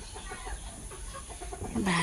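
A rooster with an unusually long tail gives a few soft clucks in a village farmyard, faint and close, with no talk over it.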